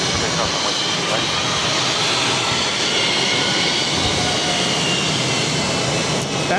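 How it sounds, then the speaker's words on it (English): A Spirit Airlines A320 with sharklets arrives at Boston Logan, its jet engines producing a loud, steady, broadband roar that fills the whole stretch without a break. "That is Spirit Airlines 896 coming in from Myrtle Beach on an A320 Sharklets."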